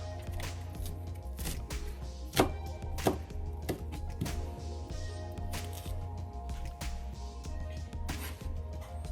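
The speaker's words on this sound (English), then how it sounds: "And just cut it very thin, like cut leaves as thin as possible." A knife chops leeks thinly on a cutting board, making quiet, rapid, uneven taps with a couple of sharper strikes, close by and with no talking.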